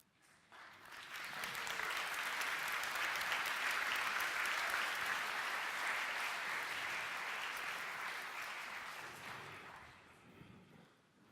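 Audience at an NVIDIA GeForce RTX launch event bursts into applause, swelling quickly, holding loud and dense for several seconds, then fading away.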